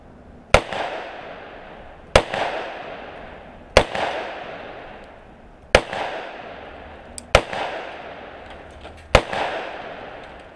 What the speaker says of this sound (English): here's our early 2008 production SP-101 327. See how this shoots.